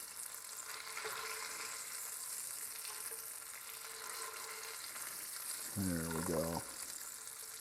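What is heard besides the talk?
bacon and egg omelette sizzling in pan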